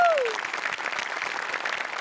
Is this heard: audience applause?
yes